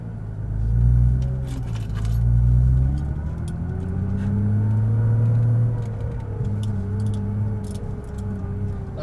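A Nissan GTR pulls away from a stop in a series of rising, rumbling engine swells, each surge climbing then easing. It is heard close from inside the car, followed by a steadier low drone.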